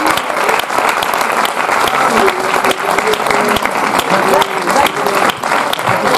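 An audience applauds after a debate with a film team at a cinema, with dense steady clapping from a crowd. Voices talk over it and a brief sung tone drifts through the middle.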